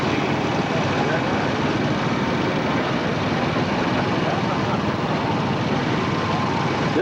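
An old Gibson tractor engine drives past at a county fair show, a steady rough mechanical drone mixed with outdoor wind and crowd noise throughout.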